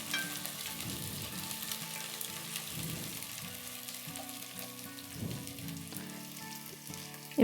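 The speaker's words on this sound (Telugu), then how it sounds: "ఈ అల్లం వెల్లుల్లి పేస్ట్ పచ్చివాసన పోయేంత వరకు బాగా వేయించుకోవాలండి." Ginger garlic paste fries in a pan with a continuous crackling sizzle, broken by recurring low scraping strokes as it is stirred, heard up close with no talking.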